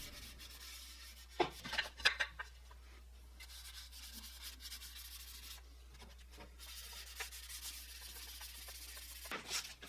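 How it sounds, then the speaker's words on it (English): A rag rubs hand-rub polyurethane onto a scrap-wood recipe board, giving soft, intermittent swishing strokes with a few louder scrapes, quiet and heard alone. "I'll use a rag to make sure that I wipe down all the surfaces and get a nice even"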